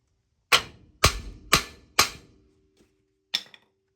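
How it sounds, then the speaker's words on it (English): A hammer strikes a ball joint on a 1994 Chevrolet Silverado to break it loose: four sharp, ringing metallic blows at an even pace, then a pause and one final hit, close and loud. "Take your hammer, and then it breaks loose, see?"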